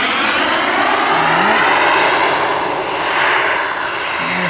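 An RC Excalibur turbine jet flies past before landing, its loud continuous high-pitched jet roar and whine filling the air, swelling slightly as it passes, with no talk.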